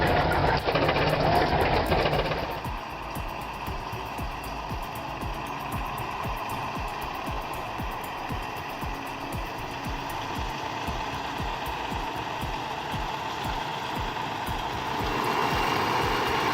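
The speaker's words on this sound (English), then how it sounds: "Three tractors pulling against one steam engine at the Northwest Ohio Antique Machinery Show in Findlay," Three tractors straining against one steam engine at an antique machinery show in Findlay, Ohio: a loud burst at the start gives way to steady rumbling engines with rapid knocking beats, swelling again near the end.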